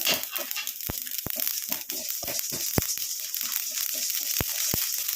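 Mustard seeds splutter in hot oil over a low flame, giving sharp scattered pops and crackles above a constant bright sizzle, close and fairly loud, with no speech.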